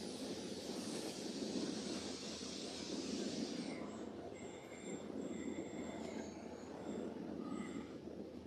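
Model trains run on a long club layout as a continuous rolling rumble, joined midway by thin high-pitched wheel squeals that come and go over the steady rail noise.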